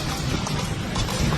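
Hooves of a horse clip-clopping on a road during a late-night police patrol in Bareilly, a quick, steady rhythm of close, distinct steps.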